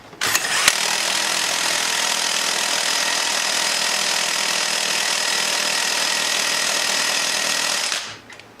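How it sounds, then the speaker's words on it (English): A Milwaukee cordless impact wrench tightens the primary clutch bolt into the crankshaft of a Can-Am X3, one sustained, loud, close hammering burst of about seven seconds that cuts off sharply at the end. "So I know my impact, this Milwaukee fully charged like it is, we torque to about 85-90 foot-pounds"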